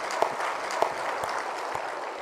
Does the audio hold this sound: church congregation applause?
yes